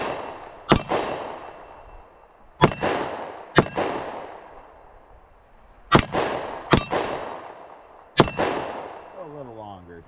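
A Taurus GX4 Carry pistol fires six sharp shots outdoors in irregular spacing, each crack ringing out and trailing off with a clanging echo.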